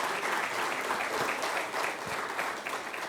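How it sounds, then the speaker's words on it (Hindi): Loud, steady applause from an audience at a Hindi-Urdu shayari and ghazal gathering in Nagpur, dense clapping sustained throughout with no pause. "उनके लिए एक बार ज़ोरदार तालियां"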